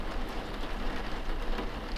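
Rain falling steadily as a soft, even hiss with a low rumble underneath, continuous and fairly close, with no voices.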